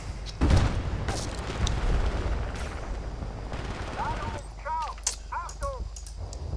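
Pistol shots from an M9 handgun in the online shooter Battlefield Bad Company 2, a few sharp cracks amid busy game noise, with chirping effects near the end.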